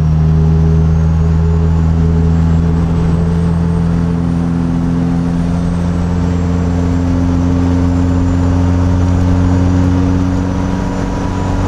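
Boosted Mazda MX-5 Miata racing at The Bend circuit in Australia, a loud, steady engine drone heard from inside the car, holding a constant pitch with a thin turbo whine over it, no voices.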